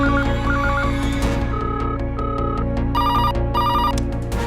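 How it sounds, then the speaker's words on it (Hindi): Office telephones ringing nonstop, with repeated bursts of bright electronic trills layered over a loud, dense, rhythmic musical backing. "लोगों ने मंत्री और पुलिस कमिश्नर के ऑफिस के फोन की घंटी को एक पल के लिए भी शांत नहीं रहने दिया"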